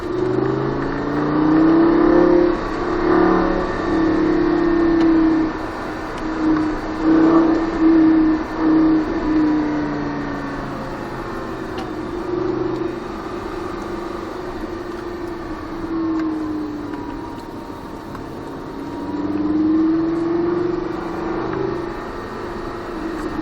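Lamborghini Gallardo LP 560 with a 560 hp engine accelerating on the Trappes race circuit, a steady loud engine drone with rising and falling pitch as revs climb, heard from inside the car.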